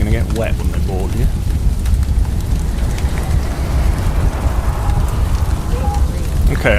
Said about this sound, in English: Oh, and there's the rain.